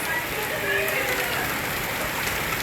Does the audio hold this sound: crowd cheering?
no